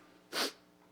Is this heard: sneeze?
yes